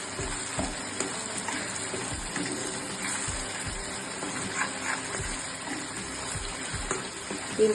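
Rajasthani garlic chutney fries in oil in a pan, a steady dense sizzle and crackle with faint bubbling pops throughout, without any speech.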